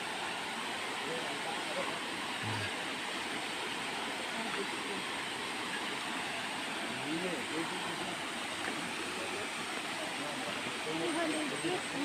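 Cold spring water falls in a weak flow, a steady broadband rush that stays even and fairly distant throughout, with faint voices in the background.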